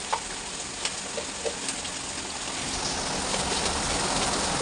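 Bay leaf, chillies and sugar tempering in hot oil for a Bengali home-style dish, giving a steady crackling sizzle close by that swells slightly louder toward the end, with no talking.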